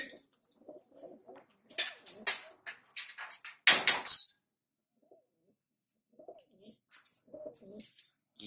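Old Madrasi pigeon giving soft, sparse coos close by in a quiet room, with a sharper burst of bird calls near the middle.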